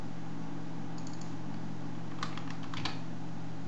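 Password typed on a computer keyboard, with two short bursts of quick key clicks over a steady electrical hum.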